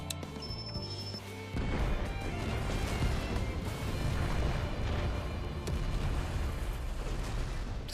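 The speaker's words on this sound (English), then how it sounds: "Explosions!" Explosions rumble through a battle scene in the video game Final Fantasy XIV, starting with a sudden loud blast that gives way to a dense, sustained roar of booming detonations and debris.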